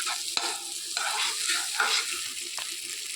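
Pointed gourd (potol) dish being stirred in an oil-glistening pan on a gas stove, a steady close scraping and frying hiss with a few sharper knocks of the spoon against the pan.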